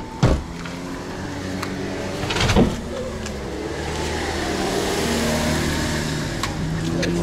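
A car drives past on a test drive in autumn Crimea, its engine and tyre noise a steady mid-level rumble with a couple of brief thumps near the start and around two and a half seconds.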